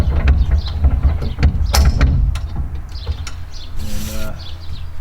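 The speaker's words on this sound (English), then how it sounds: "So I'll just undo this pin, take it down 1 notch, see how that is." Metal clunks and clicks as a pin is pulled and a Boonedox Groovy T Bone truck bed extender slides down one notch, a few close mechanical knocks and a brief scraping slide over low outdoor rumble.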